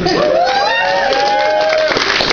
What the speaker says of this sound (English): Everybody cheer for that.